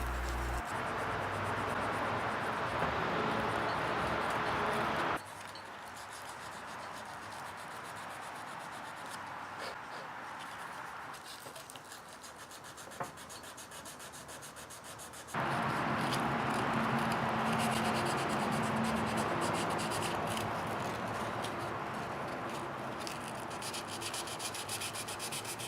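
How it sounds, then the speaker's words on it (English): Continuous scratchy rubbing of sandpaper by hand on a birdseye maple and walnut electric guitar body, close and steady, with a quieter stretch in the middle before the strokes grow louder again. "I go back to do some fine detail sanding on the body before I apply the finish."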